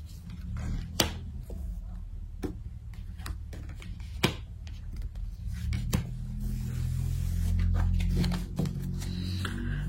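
Tarot cards are shuffled and drawn in a series of sharp, separate card snaps and taps over a low room hum, close up, with someone talking quietly at intervals.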